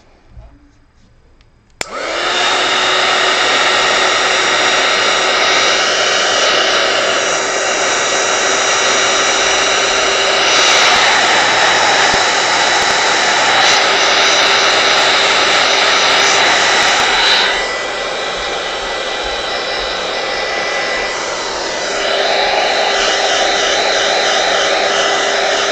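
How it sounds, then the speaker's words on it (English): A heat gun kicks on after a brief quiet moment and blows hot air in a loud, close, steady roaring whine for over twenty seconds, its pitch dipping slightly partway through before continuing. "There it is. Heat gun."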